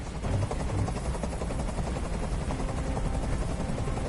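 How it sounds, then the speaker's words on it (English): A video game helicopter's rotor thumps in a constant, dense drone, loud and close, with no other sounds breaking through, in Detroit: Become Human. "Tell that helicopter to get out of here."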